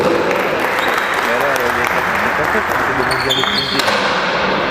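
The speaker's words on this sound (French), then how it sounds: "On applaudit bien fort le joueur." Audience applause at a men's pelota final, a dense, loud burst of clapping and crowd noise filling the space, with voices talking over it and a few brief tonal sounds near the end.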